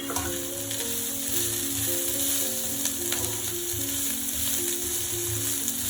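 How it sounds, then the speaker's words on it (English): Sliced onions and green chili fry in a pan for prawn curry, a loud continuous sizzle with occasional scraping from stirring throughout. "Stir the onions for about 40 seconds just to let it cook"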